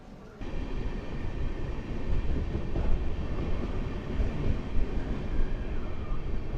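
The 12677 Bengaluru–Ernakulam Intercity Express rumbles along near Hosur, a steady loud roar of wheels and carriage noise heard from inside the train, with no talk.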